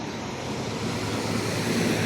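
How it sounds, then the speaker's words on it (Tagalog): A continuous broad wash of sea surf noise rolls steadily, mixed with wind buffeting, with no distinct voices, in Dubai. "Yan yung dagat."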